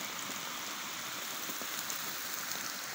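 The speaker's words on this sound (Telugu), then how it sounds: "ఆఖరికి సాయంత్రం అయితే వాన వచ్చింది" Evening rain falls steadily, a close, even hiss of drops on the ground that holds constant throughout with no voices.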